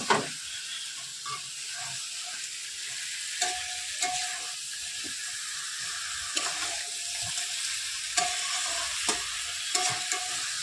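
Katla fish pieces slipping into a pan of frying spice paste, a constant hiss and sputter broken by several sharp clicks and scrapes of a spatula, with no talking.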